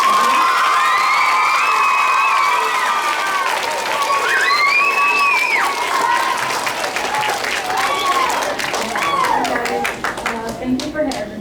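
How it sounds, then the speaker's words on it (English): An indoor audience at an Olympic reading challenge kickoff gives a big round of applause and cheers for Paralympian Tammy Delano, with dense clapping, children's shouts and whoops, and a voice speaking over the crowd before the noise fades. "can you give Tammy Delano one more big round of applause?"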